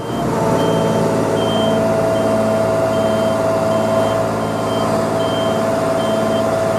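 A UK HGV lorry backing up slowly, its reversing alarm beeping in a steady repeating pattern over a constant low diesel engine drone, loud and close throughout with no talk.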